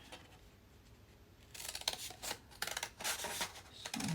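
Scissors snip through paper to cut out a heart quilt template, a run of close, crisp cutting strokes in quick bursts after a quiet opening, with no talking.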